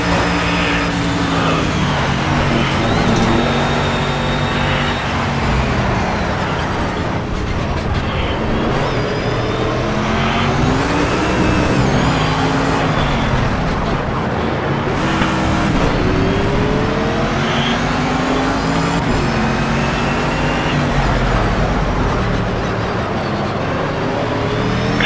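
A race car runs flat out at top speed in the video game Project Cars, its engine a loud, sustained roar with rising and falling pitch through gear changes, steady for the whole stretch.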